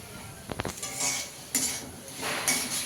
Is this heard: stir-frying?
yes